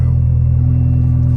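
A Toyota GT86 engine runs at a steady idle, with a loud, close, even low rumble and no talking.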